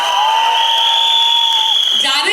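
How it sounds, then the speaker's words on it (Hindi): A college auditorium crowd cheers and applauds at a film promotion, with dense, loud clapping and high, sustained whistles or shrieks above it. "बट एक बार उसके लिए जोरदार तालियां"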